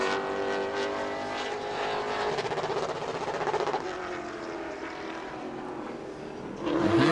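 A Pro Late Model race car, number 26, roars steadily around the track during qualifying at New Smyrna, its loud engine sustained throughout with shifting pitch as it passes, then swells louder near the end.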